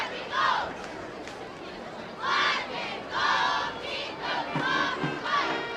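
A high school football crowd at the Armstrong at Gateway WPIAL homecoming game roars and cheers in several loud surges, with chatter and shouts filling the gaps between bursts.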